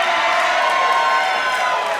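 Crowd at a live professional wrestling show cheering steadily, a dense wash of voices and whoops sustained throughout at a fairly loud, even level.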